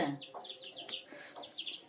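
A chicken gives quiet, rapid clucks and chirps in short bursts, fairly close but soft, with no clear talking.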